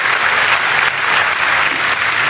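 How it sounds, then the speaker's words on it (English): Dense, loud applause from an audience at an MLB awards event, steady clapping sustained throughout with no gaps. "That deserves an applause"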